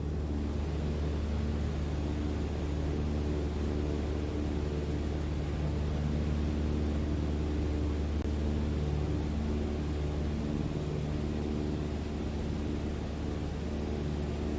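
Airplane engine in Microsoft Flight Simulator 2020, a steady droning hum with a low rumble that holds constant throughout, with no talking.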